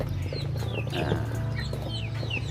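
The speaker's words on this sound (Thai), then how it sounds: "วิธีการเลี้ยงเป็ด" Fowl on a duck farm clucking and calling over a steady low hum, many birds close by and overlapping.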